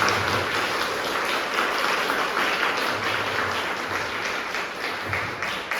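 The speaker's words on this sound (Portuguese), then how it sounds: "aquela salva de palmas que o nosso Deus tem" A church congregation at a special women's service applauds with dense, steady clapping that holds evenly throughout, a continuous wash of many hands at moderate distance with no talk over it.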